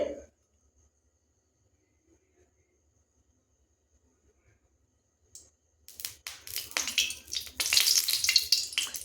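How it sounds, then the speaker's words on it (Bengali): White cooking oil hisses in a hot kadai over a gas flame: after a long near-silence a faint click comes, then a crackling sizzle rises and grows louder and busier toward the end. "এবার কড়াইতে দিয়ে দিচ্ছি সামান্য পরিমাণ সাদা তেল"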